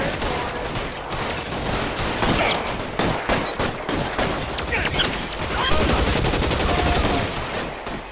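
Rapid automatic Tommy gun fire in the video game L.A. Noire, dense continuous bursts with scattered shot impacts filling the whole stretch, loud and close.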